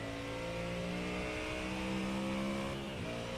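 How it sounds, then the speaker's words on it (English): Ford Mustang race car in the iRacing video game at Canadian Tire Motorsports Park, its engine revving loud and continuous with rising and falling harmonic tones as it laps, no talk over it. "Listen to that engine rip it around Canadian Tire Motorsports Park here tonight"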